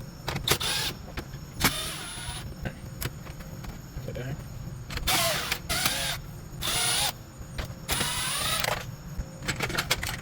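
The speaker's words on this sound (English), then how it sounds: "We got 6 7mm bolts, 3 on each side. Let's go ahead and take these out." A ratchet and power driver back out the 7mm bolts holding the radio bezel in a Chevy Silverado, giving close bursts of whirring and clicking separated by short pauses, with a voice talking faintly underneath.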